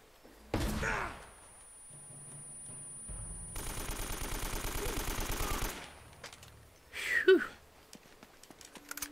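Machine gun fire in the video game Uncharted: Drake's Fortune comes as a sustained rapid rattle of shots lasting a couple of seconds, framed by thuds and scuffles before and a sharp clatter after, with no talk.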